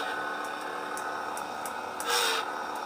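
A lightsaber swing from a Saberforge Acolyte soundboard: a steady buzzing hum that swells briefly into a brighter whoosh near the end, close and fairly loud.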